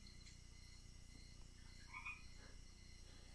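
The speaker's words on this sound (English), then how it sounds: "Hey, you frogs!" Steady chorus of frogs croaking outdoors, a dense continuous din with a few higher calls rising above it, moderately loud throughout.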